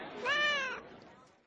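A single drawn-out cat meow in an office, rising and falling with clear harmonics, fairly close and alone, trailing off into quiet room tone.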